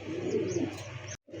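A pigeon coos softly at close range, a low rolling call that fills about a second before breaking off into a short gap.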